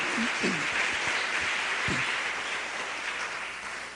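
Congregation at a church service applauding loudly, a dense sustained roar of clapping with a few brief vocal sounds at the start, fading slightly toward the end.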